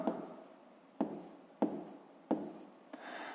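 A pen writing on paper during a maths exercise, with four or five short scratchy strokes falling at roughly even intervals, quiet and close.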